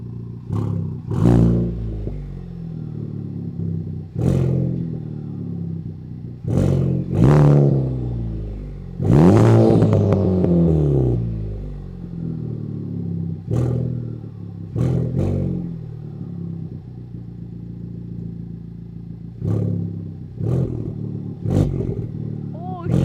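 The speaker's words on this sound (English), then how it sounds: "I'm gonna rev it." A 2017 Honda Civic Type-R with a catless downpipe revs in repeated loud bursts, each blip rising and falling sharply, with one longer, higher sweep in the middle; the engine is close and loud.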